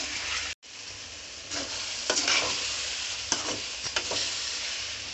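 Ingredients for an egg curry fry in a pan with a steady broadband sizzle, broken by a brief cut near the start, while a spoon stirs through it with several scraping strokes and clinks.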